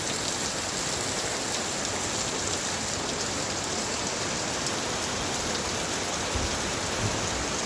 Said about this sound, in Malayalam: നല്ല മഴയും നല്ല കാറ്റും കേട്ടോ. പെയ്തിട്ടാ ഫുള്ള് മഴ.